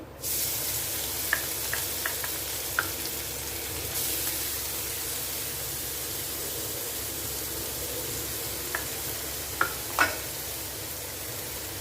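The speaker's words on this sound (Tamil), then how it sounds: "துருவின கேரட்டு கேப்சிகம் கோஸ் எல்லாத்தையுமே நம்ம வதக்கி கொடுக்க போகிறோம்" Grated carrot, capsicum and cabbage sauté in oil, giving a soft, constant sizzling hiss with a handful of light utensil clicks and taps, heard close and alone.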